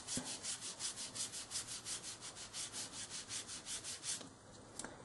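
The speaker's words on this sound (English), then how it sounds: "So I'll pick up that orange ink here. And then I'll rub underneath it." A piece of foam is rubbed back and forth over card to apply orange ink, producing a quiet, rhythmic scratchy swishing in steady strokes of about four per second, fading out near the end.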